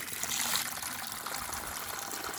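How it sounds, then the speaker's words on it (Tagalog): Running water rinsing spines off cactus pads outdoors, a continuous trickling, splashing stream at moderate level with no talk, steady from start to finish. "Kailangan running water para maalis yung mga tinik"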